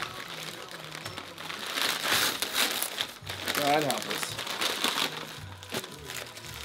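Wrapping on a self-sealing Christmas gift package crinkles and rustles continuously while people talk over it.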